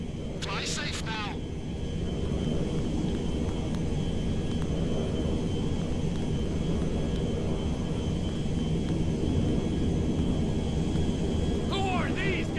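A jet aircraft in GTA V flies with a steady, broad engine roar that holds throughout, with brief chirping game sounds at the start and end.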